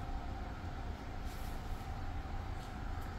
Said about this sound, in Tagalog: umandar na yung compressor mga master